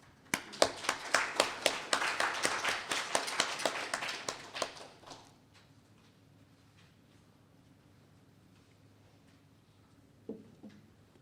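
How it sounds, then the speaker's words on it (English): Applause from an audience, dense clapping that builds and then fades out after about five seconds, followed by near silence and a couple of faint knocks. "A round of applause for Ambassador Sadiq Jafar, please."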